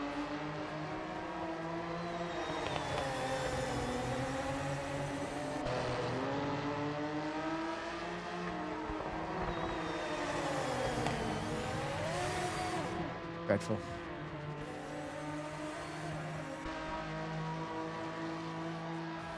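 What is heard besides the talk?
race car engines in Project Motor Racing video game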